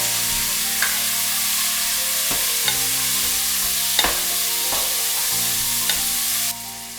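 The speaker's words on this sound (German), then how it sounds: "Die Gewürzmischung dazugeben und rösten." Spice mixture roasting in hot oil in a pot with onion and ginger, a steady close sizzle with sharp scraping stirs at intervals, while a faint background music tone persists.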